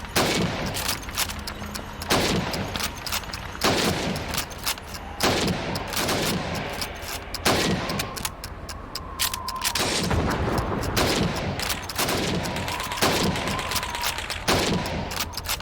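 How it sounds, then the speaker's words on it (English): Rifle gunfire from a video game shooting-range drill, aimed at helmets: a rapid string of loud, close shots and sharp cracks in irregular bursts, with no talk. "Now, let's see how well you can do under pressure. You have 15 seconds to shoot the helmets."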